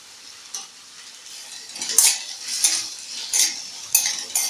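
A spoon scrapes and stirs cabbage and potato curry in a pan, with a faint sizzle beneath a series of louder, irregular metallic strokes that grow more frequent toward the end.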